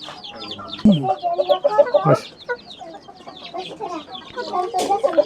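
Fancy white Polish cap chickens on a poultry farm in Tangail give close, repeated clucks and short squawky calls in uneven bursts, with quieter clucking from other birds around them.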